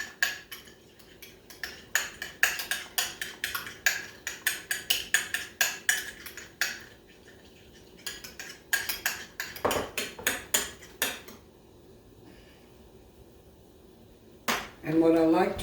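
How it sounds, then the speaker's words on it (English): Fork or whisk clattering rapidly against a bowl, beating one egg with a little milk, salt and pepper into a dip for thick pork chops; quick irregular clicks and taps, close and fairly loud, with pauses and a brief louder clatter near the end. "I'm going to whip that up. That's just 1 egg, a little bit of milk, salt, pepper"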